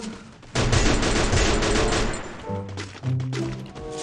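An M60 machine gun firing in Free Fire, a dense, loud rattling burst that pauses briefly and resumes alongside tonal game sound effects.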